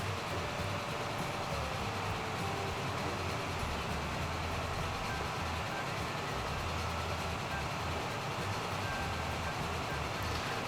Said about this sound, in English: we can just enjoy the slow chugging of the steam engine as it passes through the landscape